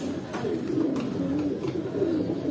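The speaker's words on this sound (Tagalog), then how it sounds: "Natingan na yung mga ibon natin" Pet racing pigeons coo close by in a soft, continuous low warble, with faint background noise and no speech.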